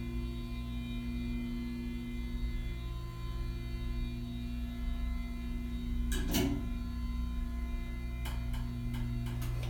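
Savaria Orion hydraulic elevator running in a commercial building in Aspinwall, Pennsylvania, a steady low pump hum with tonal whine, joined by a few sharp clicks and clunks toward the end.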